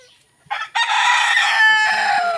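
A lone caged turkey in a backyard on a rainy morning lets out a loud, close, drawn-out call lasting about two seconds after a brief squawk. No one speaks during it.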